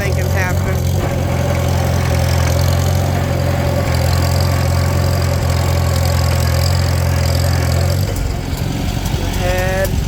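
A Farmall Super C tractor engine idles loud and close with a steady low throb for most of the span, then the tone shifts and roughens near the end.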